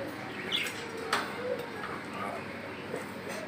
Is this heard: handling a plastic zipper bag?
no